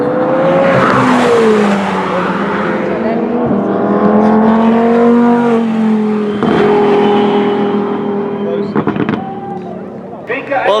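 An 800-horsepower McLaren 720S charges around the Swartkops race track. Its loud engine climbs through repeated gear changes with sharp exhaust pops and crackles near the end, heard close and continuous.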